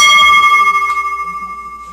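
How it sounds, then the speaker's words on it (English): A wrestling ring bell rings out to end the match: one loud, bright strike that rings on with a slowly fading, wavering tone. "Ring the bell!"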